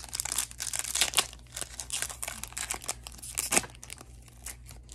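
A Yu-Gi-Oh card pack is torn open close up, making crisp crinkling and ripping foil noises in quick irregular bursts that soften toward the end, with no talk.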